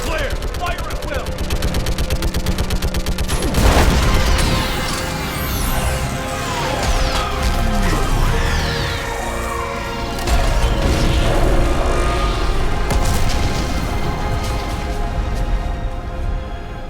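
Video game battle against a live Reaper, with sustained gunfire, bursts and heavy explosions of an orbital strike rolling on continuously, loud and dense, with a big blast early on and voices shouting over the chaos.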